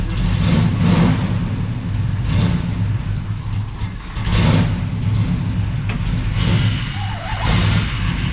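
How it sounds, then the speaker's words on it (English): A 1978 Chevy C30 truck engine, parked for years, runs close by with a rough, uneven rumble and periodic puffing surges, the sputtering rasp of a leaking exhaust. "Sounds like there's an exhaust leak."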